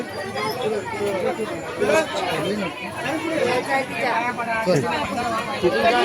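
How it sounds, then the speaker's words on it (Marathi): Dense crowd chatter fills the steps of Jejuri temple on a busy Sunday, a steady hubbub of many overlapping voices close around, with nearer talk mixed in throughout. "आज रविवार आहे रविवारची किती गर्दी आहे बघा"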